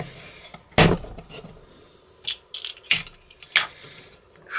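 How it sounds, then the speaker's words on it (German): Metal cover being fitted onto a bolt lock under repair in a locksmith's workshop: a few sharp metallic clacks and jangles spaced irregularly, close by, with quieter handling noise between. "Jetzt mache ich mal eben hier den Deckel drauf."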